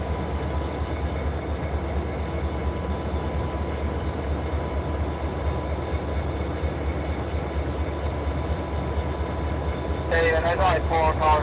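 Norfolk Southern freight locomotives, an SD40-3 and SD40-2, rumble steadily at Chattanooga Yard with a deep, continuous engine drone, a horn-like tone rising near the end, and voices nearby.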